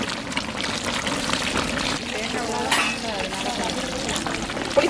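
Tamarind water is poured into a simmering eggplant curry, giving a steady close sizzling, splashing wash with stirring noises, and a person talks over it.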